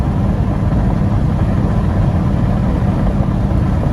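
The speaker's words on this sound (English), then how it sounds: "The wind noise you're hearing is the window cracked over there." Wind rushes through a cracked-open window of a 1934 Ford street rod on a rough winter road, a steady loud broadband roar blended with low engine and road rumble throughout, no talking.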